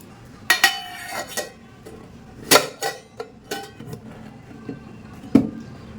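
A metal tiffin box lid is closed in a home kitchen: a few sharp metallic clinks and clatters, close by, separated by short quiet gaps.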